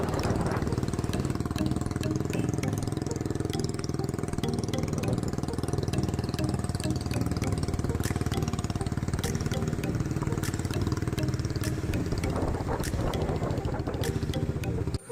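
Motorcycle engine labouring uphill on a misty hill road, a steady droning rumble that runs unbroken throughout at close range, with scattered ticks and rattles over it.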